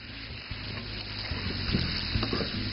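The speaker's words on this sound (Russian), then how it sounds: "Сейчас их уже можно обжарить вместе." Pork and water bamboo stems sizzle steadily in a hot pan while a utensil scrapes and stirs, with a few sharper knocks against the pan.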